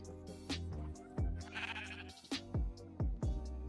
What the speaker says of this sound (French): ils font un nouveau bruit les moutons quand ils marchent